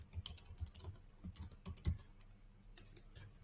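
Typing on a computer keyboard while editing a title in Microsoft Excel, irregular clicks and keystroke taps, close and moderately loud, with a few louder presses.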